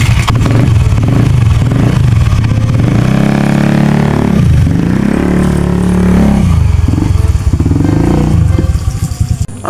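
A Kawasaki Ninja motorcycle rides away loud and close, its engine revving up and down through several gear changes, with a brief scrape partway through.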